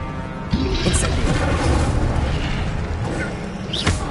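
An Incendio fire spell cast in Hogwarts Legacy, a bursting whoosh of flame that rushes up and roars steadily for a few seconds before a brief flare near the end.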